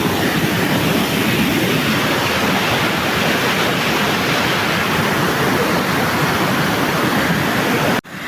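Chernigovka waterfall in Abkhazia roars as a loud, dense, steady wash of falling water, heard up close and alone, cutting off abruptly at the very end.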